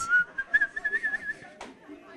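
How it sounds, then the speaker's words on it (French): A person whistles a short, quick tune of rising and warbling notes, close and clear, ending with a brief sharp breath or click. "and whistle a little bit."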